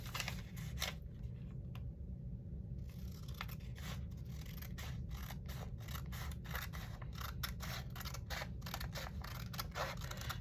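Scissors snip steadily through regular 11 by 8.5 copy paper, a close series of sharp, rhythmic cuts with crisp clicks, alone without talk.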